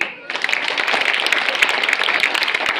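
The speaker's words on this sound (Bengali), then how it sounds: "জোরে হাততালি" An audience at a Sri Ramakrishna Paramahamsa Seva Trust ceremony breaks into loud, dense clapping after a brief quiet start. The close, continuous patter of many hands holds steady to the end.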